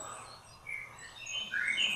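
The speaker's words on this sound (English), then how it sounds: "Birds sang." Birds sing in a garden, soft high chirps and tweets rising toward the end against quiet background hiss.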